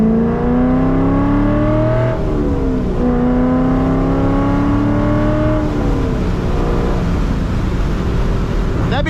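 A C5 Corvette with carbon fiber side skirts drives along a road toward Talladega, its engine droning steadily and loud, pitch shifting as it revs up, eases off and shifts gears throughout.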